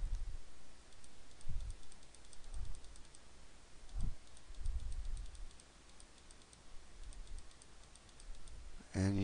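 A computer mouse clicks quietly and repeatedly during digital painting, small soft ticks scattered over a faint background.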